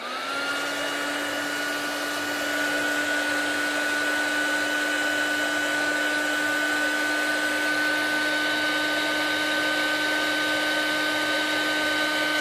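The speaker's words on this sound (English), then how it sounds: "And then just go in with the heat tool now." A heat tool blows hot air to melt material while making a mini book case, a steady loud whirring hiss that starts abruptly and holds constant throughout, no talk.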